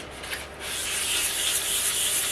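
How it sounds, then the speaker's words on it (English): Flatting down the finish on the top of a guitar built from a vintage Hofner neck with 240-grit sandpaper gives steady, close, rhythmic rubbing strokes that grow louder and continuous, with no voices. "So now I'm flatting down the finish all over the top with sandpaper 240."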